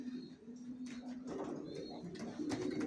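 Racer pigeon chicks coo in a loft, low repeated murmuring calls under a busy background with faint rustling and soft voices.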